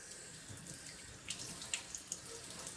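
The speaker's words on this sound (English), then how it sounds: "I'm going to rinse my knife and to put my cutting board in the sink" Steady running water from a sink tap as a knife and cutting board are rinsed after seasoning chicken, with a few brief clinks and splashes over the constant hiss.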